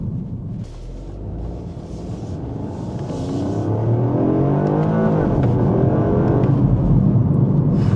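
A Lexus LBX Morizo RR hot hatch, GR Yaris-powered, accelerating hard on a New Zealand drive, its engine note rising in pitch through the gears and swelling louder as it pulls, heard from inside the cabin.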